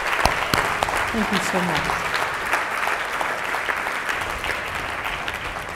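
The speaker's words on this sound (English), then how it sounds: "another round of applause" Audience applause at a lecture-style event, a steady sustained crowd clapping that runs throughout, with a person speaking briefly over it near the start.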